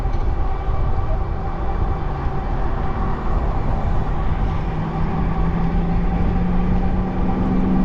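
A train rolls past a rail trail crossing, a loud, continuous low rumble of wheels and cars with a steady droning hum, close by and unbroken, no voices.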